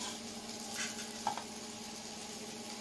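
Garlic dropped into a pan of roasted green chillies with the gas turned off, giving a faint, soft sizzle and a couple of light taps from a spoon against the pan, close by and quiet.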